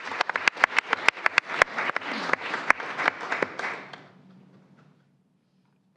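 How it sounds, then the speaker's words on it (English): An audience at a school board meeting applauds in a short burst of clapping with sharp individual claps, fading out over a few seconds into near silence. "Let's give them a round of applause."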